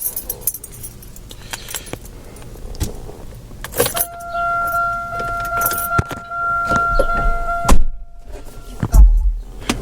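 Car keys jangle close up in a car's interior, followed by engine cranking, door and window movement, and an engine starting toward the end, with clicks and rustles throughout.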